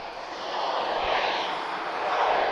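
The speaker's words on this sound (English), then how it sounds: "That's a noisy Ryanair" A Ryanair jet roars steadily at Lisbon Airport, a broad, loud engine noise that swells slightly, heard from the ground by a plane spotter.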